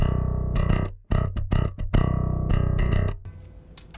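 An unprocessed bass guitar, all effects bypassed, plays a plain riff of short and sustained low notes, clean and dry, up close; the line stops and leaves a brief quiet hiss at the end.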